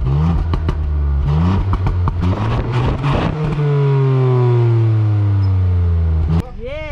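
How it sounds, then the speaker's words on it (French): A 2021 Ford Puma ST200 in sport mode accelerates hard, its engine rising through gears with a loud, close exhaust growl, a shift pause and a crackling pop near the end, while occupants talk over it. "Il y a un beau petit retour à l'échappement"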